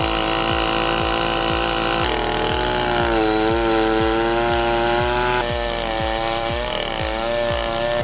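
A rebuilt Stihl 090 AV chainsaw cuts into an oak root ball, its big engine running loud and steady at low revs with a throbbing, pulsing rhythm. The pitch dips and shifts as the chain bogs under load.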